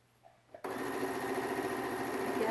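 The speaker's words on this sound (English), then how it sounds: "And you're going to sew. Again, this is straight line sewing" Sewing machine stitching a straight line along a pillowcase, starting abruptly after a quiet moment and then running at a steady, even whir, close and continuous to the end.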